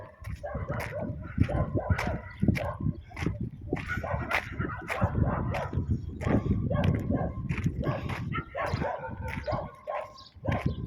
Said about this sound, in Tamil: நாய் வேறு நிறைய குலைக்குது பாருங்கள் எப்படி அங்கங்கே நாய் இருந்து குலைக்குது